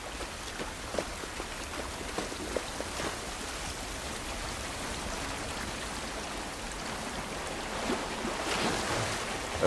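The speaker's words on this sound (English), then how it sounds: "This rain ain't gonna do us any good." Rain falls outdoors in The Last of Us video game, a steady, faint hiss of drops on surfaces with a soft wash underneath, continuous and unbroken with no talking.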